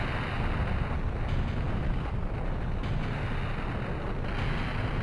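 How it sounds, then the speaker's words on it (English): A roaring, sustained blast in the video game Turok: Dinosaur Hunter, loud broadband rumble filling the whole stretch with no pauses or talk. "he could have been, like, miles ahead of the explosion, but man, it was right there"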